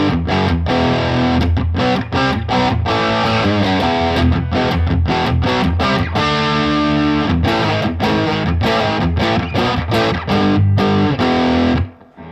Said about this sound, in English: Light distortion like this.